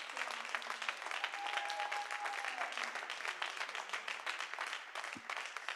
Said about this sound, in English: Clap your hands. Make a joyful noise.